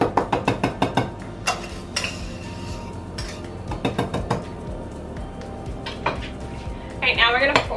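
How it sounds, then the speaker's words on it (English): Spoon folding and mixing plant-based queso dip in a bowl, starting with a quick run of sharp clinks against the bowl, then softer scraping and occasional clinks, close by. "now we're gonna fold in. We're just mixing in slightly"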